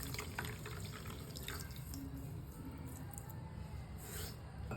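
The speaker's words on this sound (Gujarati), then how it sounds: "હવે આમાં આપણે ખાંડ ડૂબે એટલું પાણી લઈશું" Water poured over sugar in a pan for raw mango sharbat, a steady close trickle and splash running the whole time at low level, with no talking.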